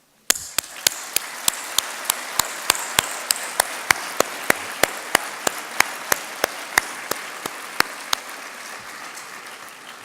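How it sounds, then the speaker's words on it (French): A graduation ceremony crowd at ESTIA engineering school applauds the graduates' parents, a sustained bed of clapping with one nearby pair of hands striking sharp, rhythmic claps roughly every third of a second. "et je tiens à ce qu'on les applaudisse."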